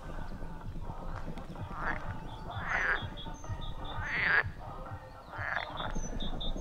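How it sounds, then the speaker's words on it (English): Frogs croak in the Latvian countryside in several rough, drawn-out bursts spaced a second or so apart, moderately close, over a low rustling outdoor background with no talk. "A frog sounds."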